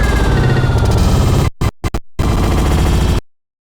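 Loud, busy minigame music from Mario Party 9 plays continuously, briefly cut by a few short choppy breaks midway before resuming and then stopping abruptly.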